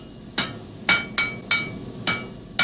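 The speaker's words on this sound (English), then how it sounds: "The ring of the blacksmith's hammer was a part of rural life for centuries." A blacksmith's hammer strikes hot metal on an anvil six times at an uneven pace, and each sharp, bright ring decays quickly. The blows are close and clear, with no talking.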